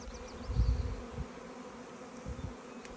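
A swarm of honey bees being transferred into a bee box hums loudly and close, a steady low buzz with a few stronger swells.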